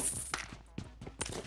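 Gunfire in the battle royale game PUBG Mobile: three sharp shots spaced about half a second apart, moderately loud over a low background of game noise.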